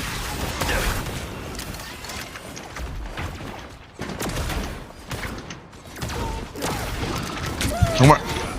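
Rapid gunfire with mechanical clatter in a video game, moderately loud and sustained, mixed under a person talking.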